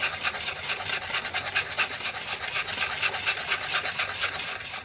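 Bath bomb mixture stirred steadily in a bowl, a continuous close scraping and swishing with a quick repeating rhythm, no talk.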